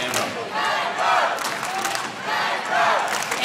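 A roller derby crowd in Canberra cheers and yells in two swelling waves, loud and close, with excited shouts rising over a broad roar.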